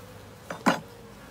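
Honey bees on a hive frame give two quick buzzing bursts close by, the second louder, against an otherwise quiet background.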